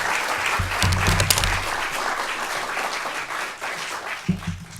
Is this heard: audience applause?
yes